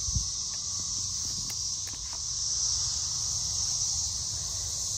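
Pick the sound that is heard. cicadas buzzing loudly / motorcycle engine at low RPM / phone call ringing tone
cicadas buzzing loudly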